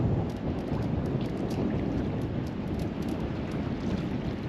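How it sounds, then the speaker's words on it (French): A strong gust of wind sweeps over open water, a dense, steady roar that fills the whole stretch without easing, with no voices over it. "et là la rafale, il y a encore une autre rafale"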